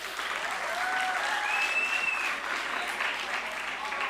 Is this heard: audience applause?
yes